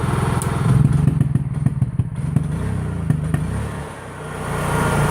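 A Honda EU3000is inverter generator running on propane through a regulator, taken off eco mode, roars loudly up close and stumbles, with an uneven, lumpy engine note and irregular knocks and thuds.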